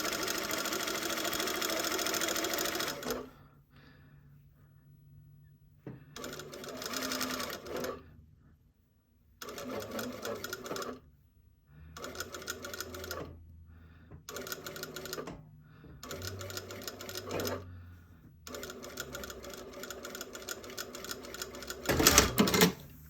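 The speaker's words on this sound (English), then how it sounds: "So I'm just basically sewing the seam a second time." A sewing machine stitches a seam on twill tape in a series of close, steady runs of rapid stitching, separated by short pauses, with a final burst of handling noise at the end.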